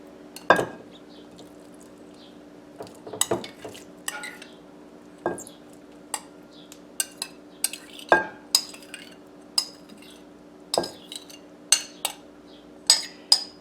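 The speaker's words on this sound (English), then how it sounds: "now we are going to add our rhubarb mixture" Spoon scraping and clinking against a mixing bowl while a rhubarb mixture is stirred into lemon cookie dough, scattered sharp clinks and knocks in an irregular rhythm, close and fairly quiet with no talking.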